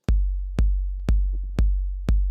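Bass drum struck on every beat at 120 BPM from an Ableton Push 2 step sequencer, five evenly spaced punchy low thumps, each decaying before the next, loud and alone.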